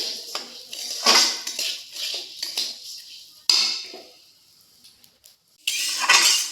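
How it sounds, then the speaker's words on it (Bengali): Raw rice is dry-roasted in a pan over medium heat and stirred constantly, giving bursts of scraping, clinking utensil-on-pan sounds with short pauses between strokes, close and fairly loud, with no talking. "মিডিয়াম আছে চালটাকে অনবরত নাড়াচাড়া করে দেখুন লাল লাল করে ভেজে নিয়েছি"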